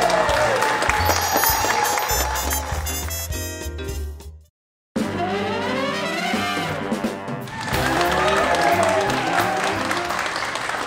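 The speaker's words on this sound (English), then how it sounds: "if you're just joining me and you hear the clapping, it's really unusual" Live studio audience clapping on a cooking show in a Dallas showroom, steady dense applause throughout with a brief drop to silence midway before resuming at full loudness.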